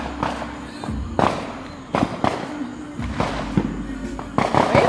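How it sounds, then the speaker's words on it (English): Fourth of July fireworks loaded in the street burst in a string of sharp booming explosions with crackling tails, close and loud, over a steady background rumble. "Enjoy the fireworks show."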